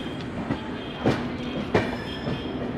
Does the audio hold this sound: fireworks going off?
no